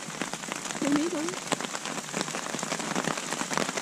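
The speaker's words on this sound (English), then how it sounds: "We like camping in the rain." Steady rain falls on a campsite during a stormy night with tornado warnings, a dense continuous patter of drops on tent and surfaces, close and even throughout with no voices.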